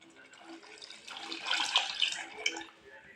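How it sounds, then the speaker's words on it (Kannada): Water is poured into a boiling tomato sambar, a short splashing gush swelling in the middle and tapering off, fairly soft and close. "ಈಗ ಸ್ವಲ್ಪ ನೀರು ಹಾಕ್ಬಿಡೋಣ ಅದಕ್ಕೆ"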